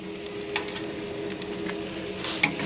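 Wagyu steaks sizzle on a grill as they are flipped, a steady broadband hiss with a few brief sharper spikes, close and moderately loud with no talk.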